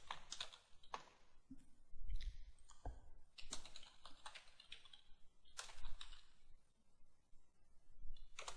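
Quick bursts of keystrokes on a computer keyboard, close and clear, with brief pauses between runs as names are entered into a presentation slide, alone with no talking.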